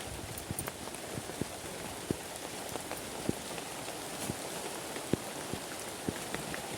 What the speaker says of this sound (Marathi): पाऊस आला आहे बघा जोरात येतोय